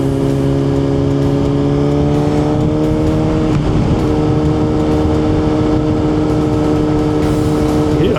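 A scooter accelerating in traffic, its steady engine drone rising and holding loud and close, with a brief shift in pitch midway amid surrounding road noise.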